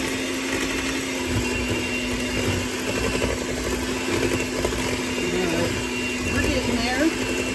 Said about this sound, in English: It is a bit messy using the hand mixer.